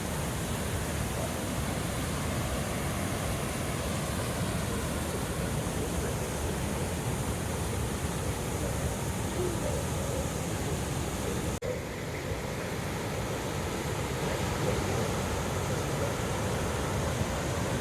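The Evolution River rushes in the background along the Pacific Crest Trail near Selden Pass, a steady, even roar of moving water that holds unchanged throughout with no talk.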